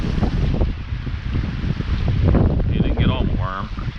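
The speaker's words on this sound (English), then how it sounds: "it's wind" Wind blows outdoors at a mountain trout stream, a steady close rumble buffeting the microphone, with a brief voice near the end.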